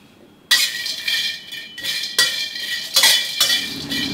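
Dried chillies dry-roasted in a pan over medium heat, with several loud metallic scrapes and clanks of a utensil against the pan in an uneven rhythm, close up.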